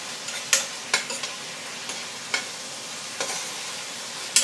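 Beef stir-fried with chili and ginger in a pan, a steady low sizzle broken by sharp scraping clacks as a utensil stirs and tosses the food, close and clear.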